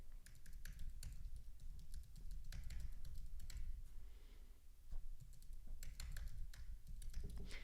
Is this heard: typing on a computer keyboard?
yes